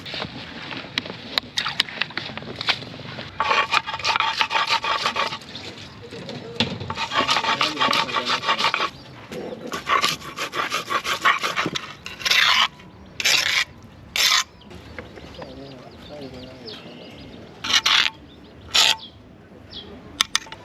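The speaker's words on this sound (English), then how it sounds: "Next we have these chilies that are going to be crushed up on this stone" Chilies are crushed on a grinding stone while cooking gumbo in West Africa, giving repeated rough scraping and rubbing strokes in rhythmic bursts, with a few brief louder knocks toward the end.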